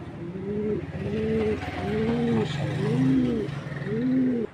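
A racing pigeon coos close by in repeated soft, rolling phrases, about five in a row, against a low hum of background noise.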